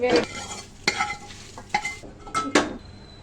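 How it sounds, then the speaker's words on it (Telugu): Okra pieces are stir-fried in a pan for an egg fry, a low sizzle broken by four or five sharp scrapes and clinks of a spoon against the metal, close and with no talking. "ఈ జిగురు పోయేంత వరకు ఫస్ట్ వేయించుకుందాము"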